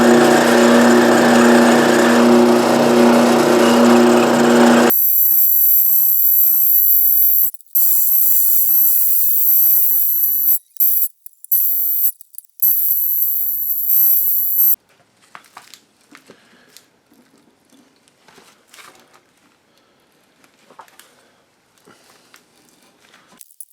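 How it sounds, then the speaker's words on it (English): Power drilling and tapping a hole into the small metal body of a Mjolnir paperweight. Loud, dense machining noise gives way to a shrill, sustained whine that cuts out in short gaps, then to quiet scattered clicks and scrapes. "The only thing that's left is to drill and tap the hole in the body to accept this end of the handle."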